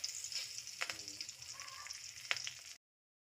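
Curry leaves and dried red chillies sizzle in hot oil for semiya upma, a steady crackling fry with a few sharp spits and pops, close by, with no talking.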